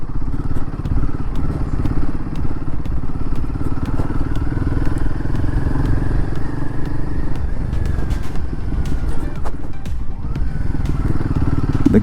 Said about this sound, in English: The Guerrilla doing some dirt roads, but absolutely no problem.